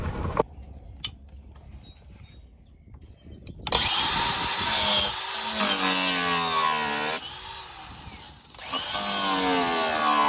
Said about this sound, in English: Number 3 is to get a grinder to get those screws cut off at the base of